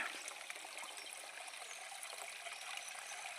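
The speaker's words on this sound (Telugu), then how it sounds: "రాళ్ళ మధ్యలోంచి నీళ్ళు వస్తున్నాయి చూడండి" Soft, continuous trickle of water running over stones, a light bubbling hiss at a steady low level with no speech.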